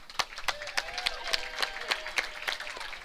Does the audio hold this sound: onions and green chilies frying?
no